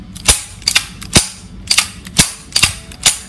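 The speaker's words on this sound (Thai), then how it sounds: "จากนั้นทำการดึงสไลด์นะครับหลายๆครั้ง" A handgun slide is racked back and released several times while the gun is checked to be unloaded, making sharp metallic clacks that come as single and paired snaps at an uneven pace, close and loud, with no talking.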